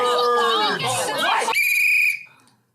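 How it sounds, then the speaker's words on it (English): A loud, shrill whistle is blown once, a steady sustained tone of about half a second that cuts through noisy, animated voices just before it and then fades into a brief quiet. "Where the hell did you get that whistle?"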